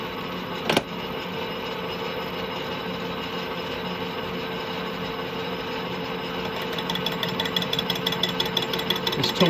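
An ISCAR carbide insert takes a five-thousandths cut on a lathe, giving a steady mechanical whirring drone with a sharp click near the start and a slightly rougher, louder texture toward the end, with no talk.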